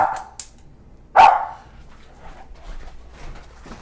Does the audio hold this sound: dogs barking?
yes